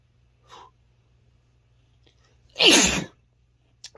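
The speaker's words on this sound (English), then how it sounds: "I feel a sneeze coming on" A single loud human sneeze close to the microphone, preceded by a short sharp intake of breath and followed by quiet, with a faint breath or rustle at the end.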